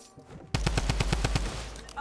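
Rapid automatic fire from a drum gun in a video game, a burst of about a dozen sharp evenly spaced shots that starts abruptly after a quiet moment and runs loud and close for over a second.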